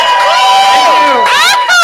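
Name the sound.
audience cheering for Eric at a convention panel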